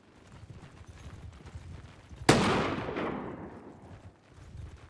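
Troops in Mount & Blade II: Bannerlord, in an Empires of Europe 1700 setting, fire a single massed musket volley. A loud boom rolls away over a low background murmur.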